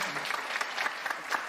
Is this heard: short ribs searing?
no